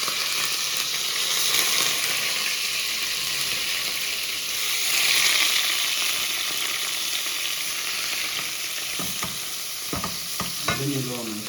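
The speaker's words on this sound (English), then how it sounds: "we are cooking the minced meat" Minced meat fries in a pan with a steady, loud sizzle, and a run of sharp scraping and stirring clatters comes near the end.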